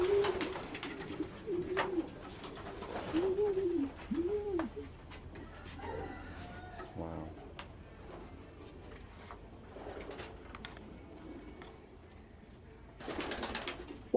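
Racing pigeons coo repeatedly inside a breeding station loft, their soft rolling calls coming in several rising-and-falling bursts through the first half, with faint rustling and loft noise continuing afterward.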